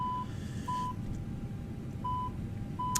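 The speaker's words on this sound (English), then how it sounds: "You'll hear beeping, but the beeping is purely because we've got the door open." A320neo door-open warning from the MSFS2020 flight simulator: a steady electronic beep that repeats several times at even intervals, sounding over a constant low cabin and engine hum.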